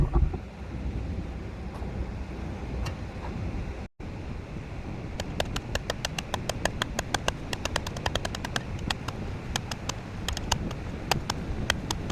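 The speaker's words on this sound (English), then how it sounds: "Wind's blowing." Wind blowing hard outdoors in Miami, buffeting the microphone as a constant roar, with a brief dropout and a run of sharp rapid clicks or taps over it later on.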